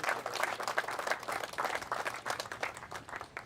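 A small crowd at an outdoor hotel groundbreaking ceremony gives a quick round of applause for officials, distinct individual claps forming an uneven, moderately close patter that thins toward the end.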